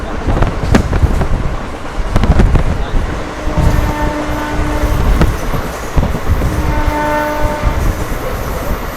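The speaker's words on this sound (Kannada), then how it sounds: "KSR ಬೆಂಗಳೂರಿಂದ ಅಶೋಕಪುರಂಗೆ ಹೋಗೋ ಮೆಮೋ ಪ್ಯಾಸೆಂಜರ್ ಟ್ರೈನ್ ನೋಡಿ. ನಮಗೆ ಕ್ರಾಸಿಂಗ್ ಆಗ್ತಾ ಇದೆ ಈಗ." A MEMU passenger train from KSR Bengaluru to Ashokapuram passes close by at a crossing, a loud continuous rumble with rhythmic clickety-clack of wheels, metallic squeals and a horn blast, heard from inside another moving train.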